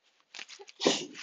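A single close sneeze bursts out after a short sharp inhale, brief and loud.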